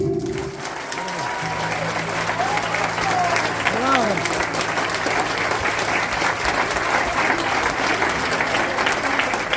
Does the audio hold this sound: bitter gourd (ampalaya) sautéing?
no